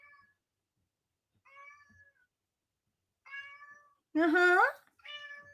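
A cat meows once loudly and close, between several short chirpy vocal sounds, with a person briefly murmuring.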